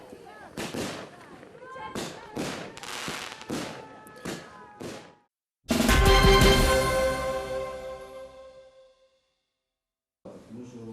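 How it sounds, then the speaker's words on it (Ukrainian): Several loud bursts of New Year fireworks pop and bang, followed by one long crackling, shimmering burst that fades out, then a brief further crack. "А фінальний новорічний феєрверк, щонайменше на рік, закріпив в пам'яті дорослих і дітей чудові згадки"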